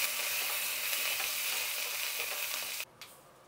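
Cashews and curry leaves sizzle steadily in hot oil in a pan, a loud continuous frying hiss that stops abruptly near the end, leaving a few faint stirring clinks.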